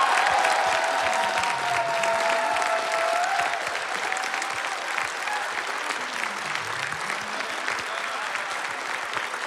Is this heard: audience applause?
yes